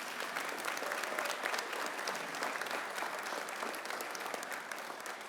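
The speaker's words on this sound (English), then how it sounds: "How about a round of applause for our superintendent?" Round of applause at a government press conference on education bills, steady sustained clapping from a room of people, even and continuous throughout.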